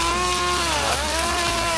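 A steady, loud motor whine with a harmonic drone from a cordless OSUKA string trimmer with a plastic blade running continuously through long, overgrown grass, with no pauses.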